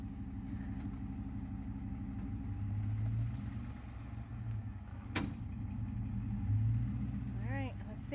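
A Ford F-150 pickup in four-wheel drive strains against a tree, its engine a steady low drone that swells and eases under load, with a person talking over it now and then.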